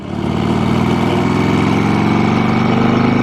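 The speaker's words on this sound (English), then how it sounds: "he wanted the FXR motorcycle with the Knucklehead engine." A Harley-Davidson FXR motorcycle with a Knucklehead engine rumbles loudly and steadily up close, with a throbbing low pulse and the pitch rising slightly as it pulls uphill.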